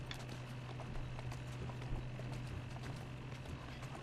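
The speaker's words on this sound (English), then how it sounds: "Who's a good horse?" Rhythmic clip-clop of horse hooves in the video game Assassin's Creed: Syndicate at a steady trotting pace over a constant low hum, with no talking.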